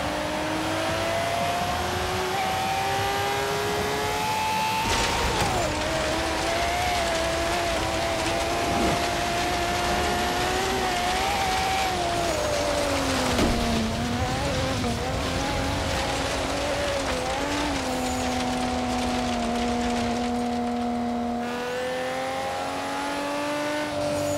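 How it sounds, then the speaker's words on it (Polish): A race car engine in Forza Horizon 3 droning loudly with a turbocharger whine, the pitch rising and falling through gear changes, with occasional tire squeal. "Słychać wyraźnie turbosprężarki."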